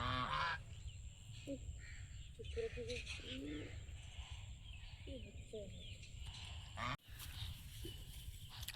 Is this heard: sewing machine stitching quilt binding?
no